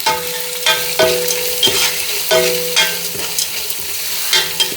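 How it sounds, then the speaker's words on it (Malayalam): Chopped onion and curry leaves sautéing in a pan for lemon rice, a continuous sizzle broken by regular scraping strokes of a spoon stirring against the pan, close and clear with no talking. "നമ്മുടെ ഒരു സവോള ചെറുതാക്കി അരിഞ്ഞത്, കറിവേപ്പില, ഇത്രയിട്ട് ഒന്ന് വഴറ്റാം"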